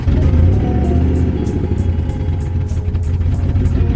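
A turbocharged Mercury Marauder engine idling after stalling whenever the gas was tapped, a steady, loud, low rumble with a faint rhythmic pulse, heard close and alone.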